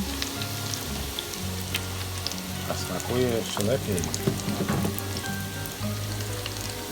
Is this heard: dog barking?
no